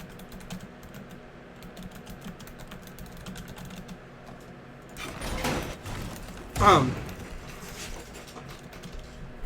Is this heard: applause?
no